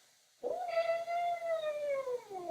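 A domestic cat lets out one long, drawn-out howl that rises sharply, holds a strong wavering tone for about two seconds and then slowly sags, loud and close against an otherwise quiet room.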